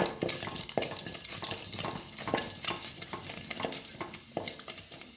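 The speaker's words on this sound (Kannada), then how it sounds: "ಜೀರಿಗೆ ಸಾಸಿವೆ ಉದ್ದಿನಕಾಳು ಹಾಕ್ಕೊತಾ ಇದ್ದೀನಿ ಅದು ಸ್ವಲ್ಪ ಫ್ರೈ ಆಗಲಿ" Cumin, mustard seeds and urad dal fry in oil with a close, continuous sizzle broken by regular stirring scrapes against the pan, with no talking.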